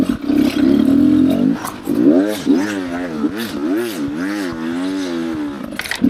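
A Beta 300RR Race Edition two-stroke dirt bike engine revs up and down in a rising, falling pattern, loud and close, with the pitch swinging through several throttle blips.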